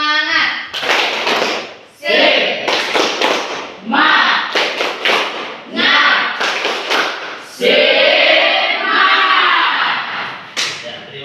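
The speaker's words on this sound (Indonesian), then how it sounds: "1 orang pimpin tepuk tangan semangat" A classroom of students performs a rhythmic spirit clap, bursts of patterned clapping and thumping alternating with short group chants, loud and close in a room.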